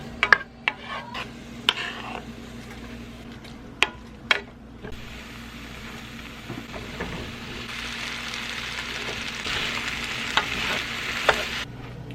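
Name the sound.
cooking dinner with leftover potatoes and tomato paste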